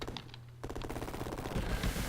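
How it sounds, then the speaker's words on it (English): A helicopter's rapid-fire gun in Urban Strike chatters in fast, evenly spaced rounds after a short pause, with heavy rumbling explosions building underneath toward the end. "With this rapid fire, it's gonna help tremendously."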